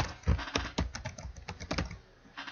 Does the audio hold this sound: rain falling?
no